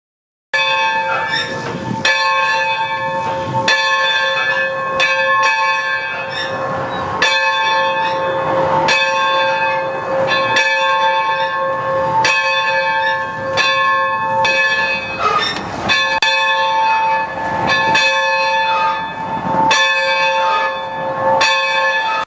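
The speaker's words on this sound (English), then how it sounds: "you can even step up to the locomotive's footplate, and also you can even ring the locomotive's bell" The bell of the Denver and Rio Grande 268 steam locomotive on museum display rings loud and near in steady, repeated clangs. Its bright metallic tone sustains between strikes for the whole stretch.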